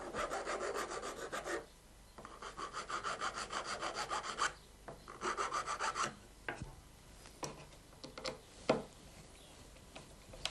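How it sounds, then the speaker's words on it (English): Metal pins set in the front battens of a woodworking routing jig are filed to a point, giving close, rhythmic rasping strokes in quick runs, then slower scattered scrapes and taps. "Pins are now inserted in the front battens and filed to a point."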